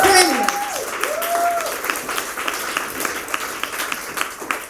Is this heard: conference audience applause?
yes